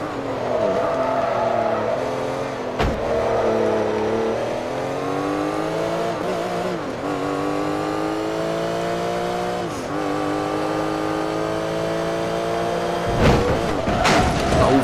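A damaged Porsche race car engine in Forza Motorsport 3 drones loudly and continuously, its pitch climbing and dropping through repeated gear changes, with a few sharp knocks and scrapes from contact along the way.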